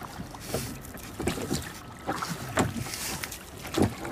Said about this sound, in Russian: И катаемся сейчас на лодках.